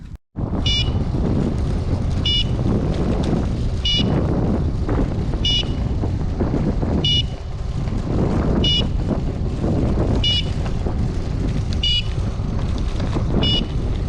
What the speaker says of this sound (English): it's gonna be beeping this whole time